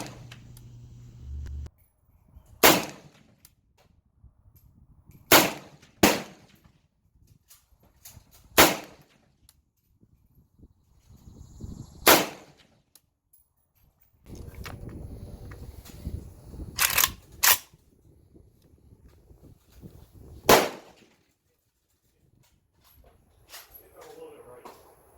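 A Romanian MD 90 rifle fires single shots at targets outdoors, about eight sharp cracks spaced several seconds apart, with someone talking between and under the shots.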